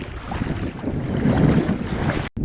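Strong gusty wind blows beside a river, a loud roaring rush that buffets the microphone, swells in the middle and cuts out abruptly near the end.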